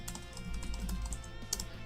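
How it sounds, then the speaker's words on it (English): Rapid typing on a computer keyboard, close and quiet, a steady clatter of key presses with one sharper tap near the end, no voices. "I fat fingered my keyboard, which is not unusual."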